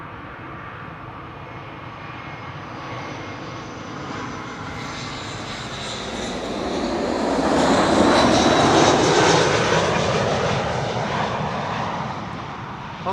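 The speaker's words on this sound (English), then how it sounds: "There's the Cathay Cargo 7478 arriving from Paris" Cathay Cargo Boeing 747-8 freighter arriving at Amsterdam Schiphol, a loud jet engine roar that swells as it passes nearby, peaks, then slowly fades, heard alone.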